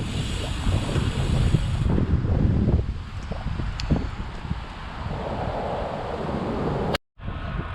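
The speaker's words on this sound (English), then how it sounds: "The wind has been brutal out of the southeast." Strong wind buffets the microphone during a bike ride along a road, a loud, steady rumbling roar that continues throughout with a brief dropout near the end.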